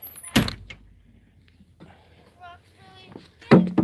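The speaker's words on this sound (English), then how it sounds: "Shut the door." A vehicle door slams shut with a sharp thud, with a second loud thump near the end, set outdoors during yard work picking up rocks after mowing the grass; faint voices and light background noise sit in between.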